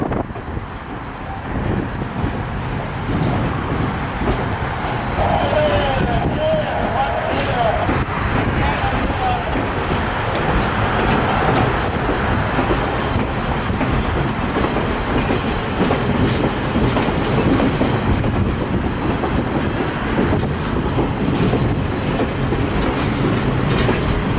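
A train on the Niles Canyon Railway rumbles steadily along the tracks with a continuous low roar and rattling carriages, loud and close throughout.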